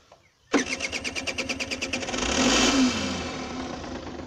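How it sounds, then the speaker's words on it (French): A Yamaha TZR motorcycle engine cranks with a quick rhythmic starter chatter, catches, and swells into a loud running idle with a brief rise in revs, heard up close. "je vais vous faire écouter le démarrage"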